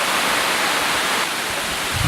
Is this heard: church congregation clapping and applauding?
no